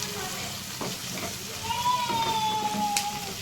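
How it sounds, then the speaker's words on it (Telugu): Ginger garlic paste frying in a pan for chicken fry, a steady close sizzle with occasional stirring scrapes and a brief high whistling tone partway through. "అల్లం వెల్లుల్లి పేస్ట్ వేసుకొని కొంచెం పచ్చివాసన పోయేదాకా ఫ్రై చేసుకుందాం"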